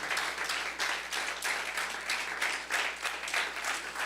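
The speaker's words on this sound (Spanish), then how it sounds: "De un aplauso fuerte al Dios Todopoderoso" Church congregation applauds loudly and steadily, a dense, continuous wash of many hands clapping in loose rhythmic pulses throughout, with no speech.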